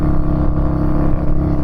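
A Harley-Davidson V-Rod motorcycle accelerates hard, its engine a loud, steady, deep roar filling the whole short burst with no voices over it.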